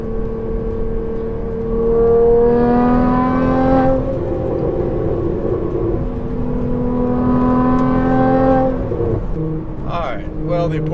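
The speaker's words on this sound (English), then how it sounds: "this is the Soul Performance exhaust system, valves open" A Porsche 981 Cayman with a Soul Performance exhaust and its valves open is driven through turns, its engine droning steadily as it rises and falls with two strong revving surges before easing off at the end.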